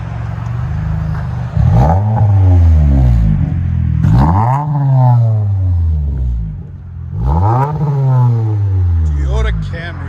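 A 2019 Toyota Camry 2.5L four-cylinder with dual exhaust, Vibrant bottle resonators and resonator delete revs three times, each sweep rising and falling loudly and close against a low idle.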